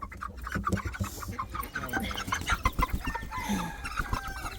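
Chickens cluck and scratch nearby in a yard, a steady scatter of short, quiet clucks and pecking sounds with low background noise.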